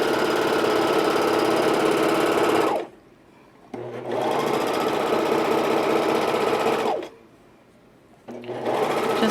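A serger runs steadily around a curved hem on a knit top, loud and close, in three sustained bursts separated by short pauses, with no talking.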